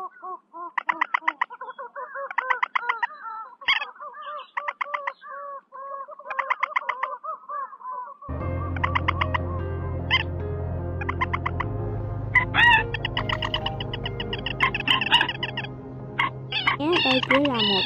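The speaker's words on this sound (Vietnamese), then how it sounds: "Đây chỉ là một đoạn ngắn trong tiếng chim chuẩn đầy đủ và cập nhật mới nhất để đi bẫy" Recorded white-breasted waterhen calls used as a lure for bird trapping: first loud, repeated harsh calls in rhythmic bursts over silence, then a dense, continuous chorus of overlapping calls on a steady low drone.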